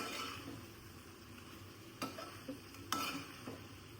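Chicken pieces being stirred into curry in a pot, a low simmering background broken by a few distinct spoon scrapes and knocks against the pot, close and fairly quiet.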